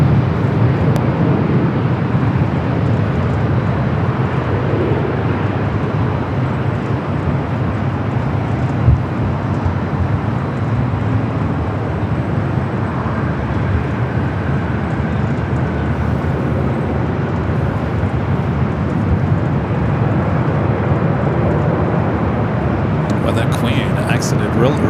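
An airliner from Tokyo Haneda arriving on runway 24 right at LAX, a loud steady jet roar rumbling throughout, with a voice talking over it.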